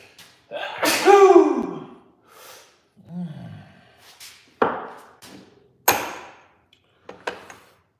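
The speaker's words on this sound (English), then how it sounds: "I'm gonna sneeze." A single sharp sneeze bursts out near the start, followed by a few gasping, snorting breaths and short nasal bursts spaced apart in an otherwise quiet garage.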